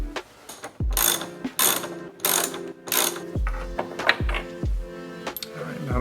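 A wrench rapidly ratchets out two bolts from a car's aux switch panel, with quick clicking bursts separated by short pauses, close and fairly loud.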